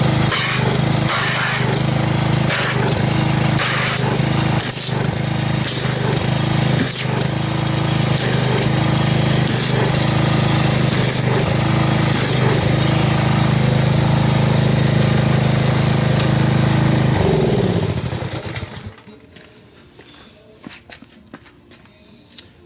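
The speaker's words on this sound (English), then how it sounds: "Let's get the pressure washer and see what kind of foam we get." A gas-powered pressure washer engine runs loud and steady for about eighteen seconds at close range, used for foaming a car wash, then cuts off abruptly, leaving a few faint knocks and quiet background.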